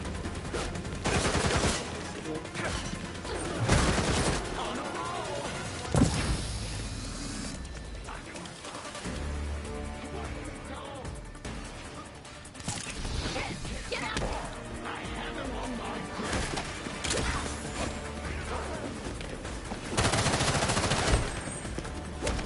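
Rapid bursts of gunfire from a shooter on an island crackle loudly and repeatedly through the scene, with sharp volleys recurring over a busy, dense background.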